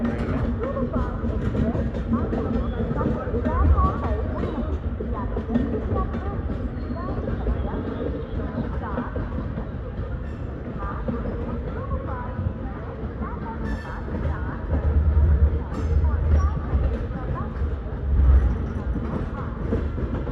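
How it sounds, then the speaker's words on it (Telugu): Secunderabad–Guntur Intercity Express train pulling in at a station platform early in the morning, a steady low rumble of rolling wagons with occasional louder swells, under faint voices in the background. "Secunderabad Guntur intercity express platform పైకి తీసుకొస్తున్నారు."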